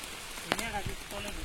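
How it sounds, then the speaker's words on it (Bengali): Steady rain falls on an outdoor village cooking spot, a constant hiss and patter with a few louder drops, while a voice sounds briefly over it. "তো দেখো বন্ধুরা কতটা বৃষ্টি হচ্ছে, সব ভিজে গেছে।"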